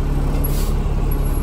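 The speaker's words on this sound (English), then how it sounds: "You're gonna release that parking brake." A bus's parking air brake releasing with a steady, loud hiss of escaping air that runs through the whole moment, close by, over the low rumble of the idling engine.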